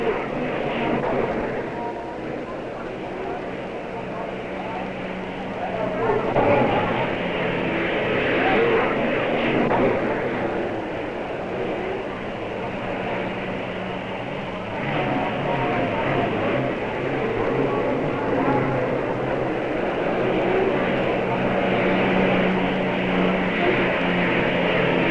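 Unlimited hydroplane racing boat Slo-Mo 4 at the 1953 Gold Cup Regatta, its engine spinning a two-bladed propeller near 12,000 rpm, gives a steady, loud, broad roar throughout the whole clip with a slight swell partway through.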